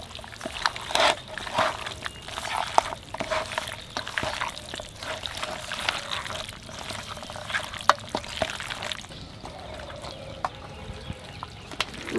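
Chicken pieces being mixed by hand with ground spice paste, green and dried chilli, cumin, coriander, salt, turmeric and mustard oil, giving soft wet squelching and sticky stirring sounds throughout, close and fairly quiet.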